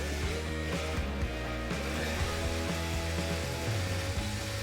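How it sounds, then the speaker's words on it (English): A power drill whines steadily as it bores freehand into a broken steel bolt, the motor pitch shifting slightly under load, close and continuous. "it's taking a long time to drill it out"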